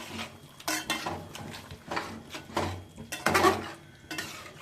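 Chicken biryani gravy with yogurt being stirred in a pot, a series of close scraping clinks of a spoon against metal in irregular bursts with faint sizzling between.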